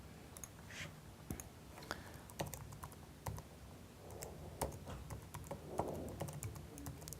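Username and password typed on a computer keyboard to log in, a close run of irregular key clicks in short bursts with small pauses, fairly quiet and without talk.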